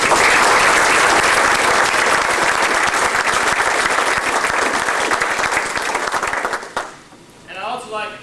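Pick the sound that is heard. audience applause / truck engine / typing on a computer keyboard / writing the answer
audience applause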